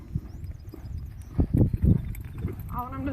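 A horse loping in an arena during ranch sorting warm-up, with rhythmic muffled hoofbeats thudding in a steady three-beat pattern under a rider's talk.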